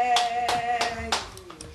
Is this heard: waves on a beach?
no